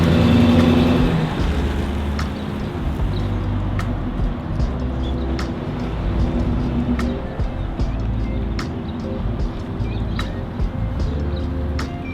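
A Nissan Skyline R34 idles and rumbles close by, a steady low engine drone with faint ticking, loudest at the very start as it pulls in.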